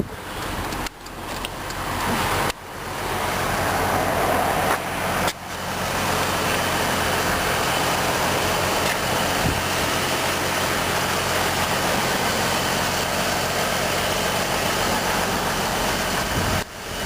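A 2003 GMC Envoy SLE engine idles with a constant, steady rumble and broad hiss, interrupted by a few brief dropouts.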